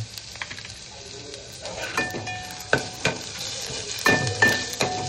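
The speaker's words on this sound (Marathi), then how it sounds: "चांगला ढवळून घ्याव्या, बघून घ्या।" A spoon stirs chicken chili with a coarsely crushed ginger-garlic mix in a pan, giving a steady sizzle broken by scraping taps and light clinks of metal on the pan.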